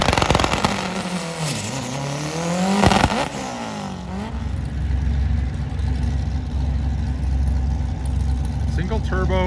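A TRE Subaru drag car launches at a dragstrip with a loud, rising engine roar that climbs through the gears and fades into the distance. A voice talks over the sound throughout, and a steady low hum lingers afterward.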